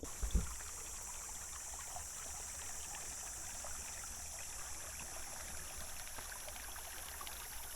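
A creek in the hot Northern Territory gold-prospecting country flows steadily in a continuous low wash, with one brief thump early on and no talk.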